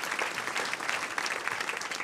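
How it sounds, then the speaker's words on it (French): Steady, dense applause from a conference audience after a talk on life and biodiversity, with many hands clapping together at full strength throughout, with no one speaking over it. "On peut l'applaudir à nouveau parce que ça change vraiment comme entrée de conférence."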